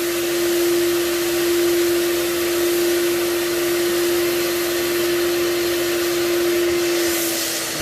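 A FLEX carpet extraction machine doing a wet cleaning pass gives off a steady, loud, close vacuum-like roar with a constant whine, unbroken throughout and with no talking.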